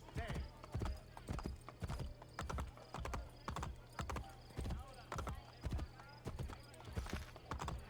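Rhythmic hoofbeats of a galloping horse in Assassin's Creed, a fast steady clip-clop pattern throughout, close and clear, with a brief whinny-like sound.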